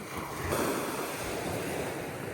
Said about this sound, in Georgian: ზღვა ზუსტად ისე გამოიყურება. ამღვრეული და აღელვებული.